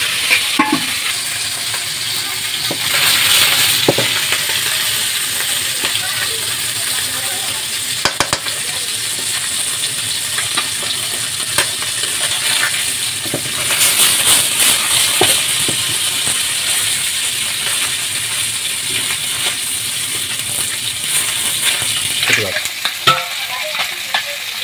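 Fish frying until crisp in a pan over a wood-fired stove, a continuous loud sizzle with stirring clatter and occasional sharp scrapes running throughout, no voices.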